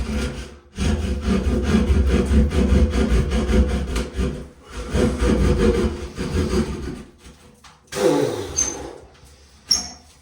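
Hand saw cutting through sheetrock during a recessed shower light install, with steady, close rasping push-and-pull strokes filling most of the clip, brief pauses between bursts of sawing.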